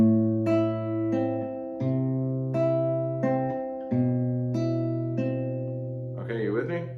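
Classical guitar, Christopher Parkening arrangement of Malagueña, playing a slow measure of plucked notes over a sustained open low bass, each note ringing into the next, close and clear with no voice.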